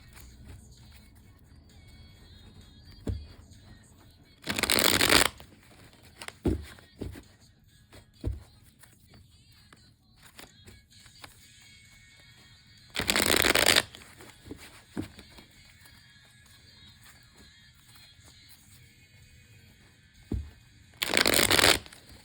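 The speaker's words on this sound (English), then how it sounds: "I will shuffle just a few more times here and split the deck" A tarot card deck is shuffled in three loud, distinct bursts of riffling, each lasting under a second, separated by long stretches of quiet room tone with a few faint handling taps.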